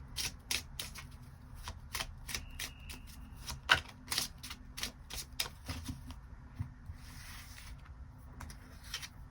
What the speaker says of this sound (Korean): 일별로 월요일부터 일요일까지 어떤 하루를 보내게 될지 추가 카드 뽑아보도록 하겠습니다